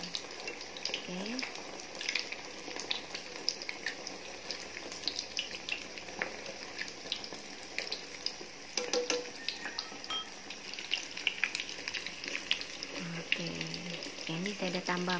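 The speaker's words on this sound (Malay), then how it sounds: "Goreng sampai dia berwarna keemasan." Tofu fries in hot oil, a continuous soft sizzle and crackle with occasional stirring clatter, heard beneath intermittent speech.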